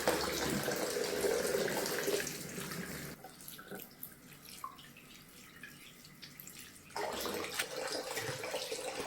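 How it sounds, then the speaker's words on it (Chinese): Bayberries being rinsed under clean running water, a steady tap-like wash that gets louder at the start and end with a quieter middle stretch. "泡好，用清水冲洗干净。"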